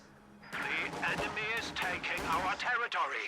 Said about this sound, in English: Riflemen firing on the grenadiers in this house will force a retreat.